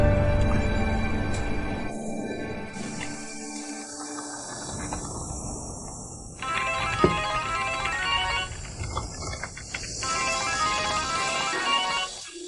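A mobile phone ringtone plays in an indoor scene of a romantic drama, a repeating electronic melody running steadily for several seconds over background hiss and faint mechanical clicks, with no talking.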